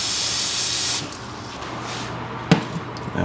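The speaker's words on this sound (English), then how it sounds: "Add some water to it." Water pours into a hot pan of rice during home cooking, a steady rushing spray for about a second that settles into softer sizzling hiss, with a sharp clatter near the end.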